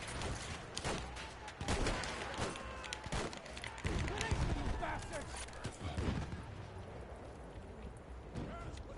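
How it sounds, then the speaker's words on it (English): Rapid bursts of machine gun fire in the World War I shooter Battlefield 1 crackle through a dense, noisy battle mix, with repeated sharp shots over a constant rumble and a voice talking in the background. "Machine gun!"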